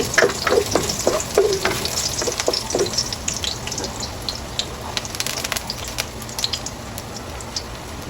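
Garlic sizzling in a hot pan for a vegetable dish, a steady crackling fry with scraping stir strokes early on, close and moderately loud, no talking.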